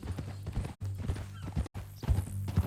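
Hooves of a horse in Red Dead Redemption 2 clip-clop in a steady walking rhythm, close and clear, broken by two brief silent cuts.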